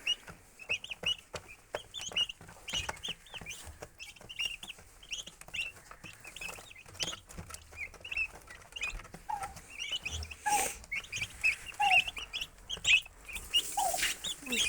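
Turkeys calling from indoors in a continuous chorus of clucks, chirps and shrill peeps, moderately loud, with occasional rustling and no talking.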